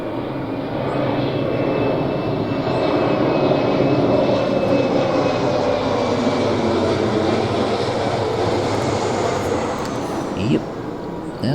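A propeller airplane passes overhead outdoors near a home garden, a steady, loud broadband drone that holds for about eleven seconds with a faint tonal whine, slowly swelling and easing off.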